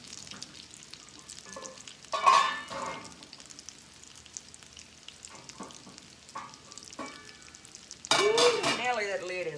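Patties cooking in a pan beside pork chops and fried cabbage, a soft, steady sizzle broken by a few sharp utensil clanks and scrapes, with brief voices in the background.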